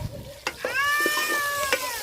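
Capsicum curry being stirred in a pan over sizzling heat: a few soft scrapes and clinks against a steady fry hiss, with a cat meowing close by in the middle.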